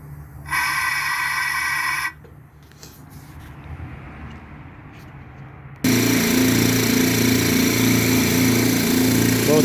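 Motors of an Air Star 50 dental air compressor running loudly in a steady drone, dropping to a quieter hiss and bleed of air, then both motors kicking back on with a louder, constant pumping hum.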